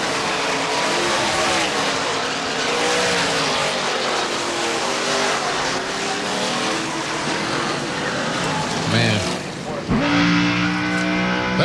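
Onboard a NASCAR Busch Grand National race car at Richmond in 1998: a loud, steady engine roar fills the clip, dipping briefly near the end before climbing back to a sharp high-pitched rev, with a voice talking faintly underneath.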